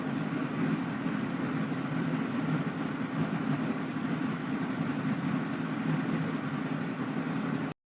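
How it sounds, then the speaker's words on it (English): Cooling fan of a Minisforum HN2673 mini PC with an Intel Arc A730M GPU running under a gaming load, giving a steady, even whirring rush with a low hum that holds constant throughout. "what about fan noise? Here is a sample of it when it was gaming"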